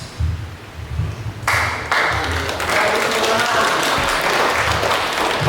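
An audience at the opening of an animation training in Manokwari starts applauding after a moment and keeps up steady, full applause, with a voice faintly underneath.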